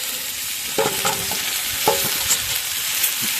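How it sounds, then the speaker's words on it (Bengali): Potatoes frying in a pan with a steady sizzle, stirred in a few short scraping bursts near the middle, close and continuous with no talking. "আমার আলু ভাজিটা প্রায় হয়ে গেছে, এখন আমি ওই ফুলগুলো দিয়ে দেব"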